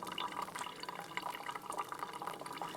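Hot water streams steadily in circles over coarse and fine coffee grounds outdoors, a close, continuous splashing trickle with no speech.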